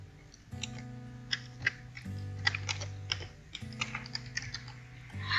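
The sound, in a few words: computer keyboard typing snipping into Start menu search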